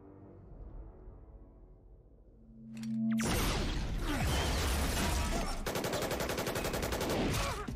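Gunfire from The Avengers movie plays as a dense, loud barrage of rapid shots and crashes after a quieter opening, continuing steadily to the end, with no talking.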